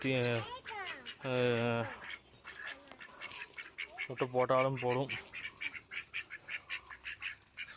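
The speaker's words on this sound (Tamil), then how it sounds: "ஸோ வாத்துங்கன்னா அப்படி மேய்ஞ்சிட்ருக்கு" Ducks grazing on damp ground give a few loud quacks near the start and again midway, then softer calls, while someone talks over them in Tamil.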